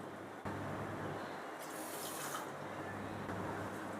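Water pours steadily into a saucepan of sugar to make sugar syrup, a continuous close splashing rush with no talk.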